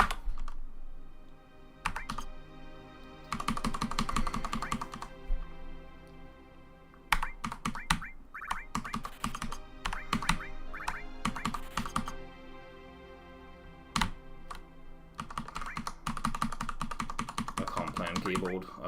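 Rapid clusters of computer keyboard keystrokes on a PC during a Dynamite Headdy speedrun, clicking in busy bursts separated by short pauses over steady game music.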